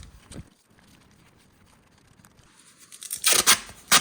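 Strips of masking tape pulled and torn off the roll while masking a tyre on an alloy wheel, a few sharp ripping bursts near the end after quiet handling noises.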